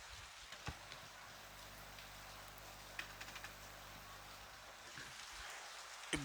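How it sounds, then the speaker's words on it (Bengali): Rain falls steadily with strong wind during a nor'wester storm in Sylhet, Bangladesh, making an even, continuous hiss with a few light taps and no voices. "বৃষ্টির সাথে বাতাসের গতিবেগ অনেকটাই বেশি।"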